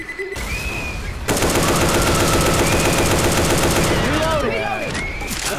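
Sustained automatic gunfire in Left 4 Dead 2, rapid bursts rattling loud and continuous after a brief lull, with voices speaking over the shooting.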